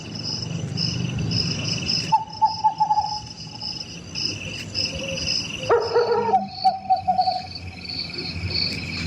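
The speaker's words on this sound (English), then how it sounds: "Well, I hear an owl" An owl hooting at night outdoors near a parking lot, several soft hoots spaced apart against a constant high chorus of crickets and insects, with no talking.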